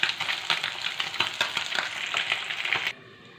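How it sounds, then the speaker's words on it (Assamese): Fish frying in a pan with a steady, close crackling sizzle and scattered spatters throughout, cutting off abruptly near the end. "এয়া মই মাছ ভাজি আছোঁ আৰু মাছখিনি প্ৰায় ভজা হৈ গৈছে"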